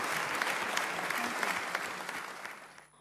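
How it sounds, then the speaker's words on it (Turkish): Strong applause from a crowd, a dense, sustained roar of clapping at steady loudness that tapers off near the end. "Onlara da kuvvetli bir alkış."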